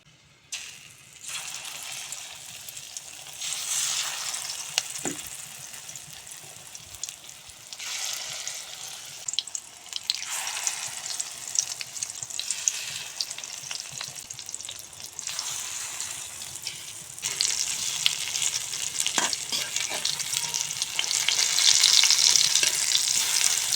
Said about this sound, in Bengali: তেল গরম হয়েছে, এখন দিয়ে দেব বড়া।